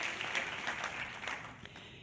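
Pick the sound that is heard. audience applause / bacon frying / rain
audience applause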